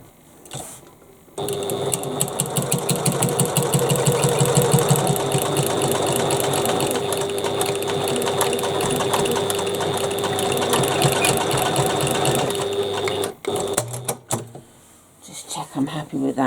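A sewing machine stitches the top of a bag in a long, fast, steady mechanical run, close and loud, stopping briefly near the end before restarting.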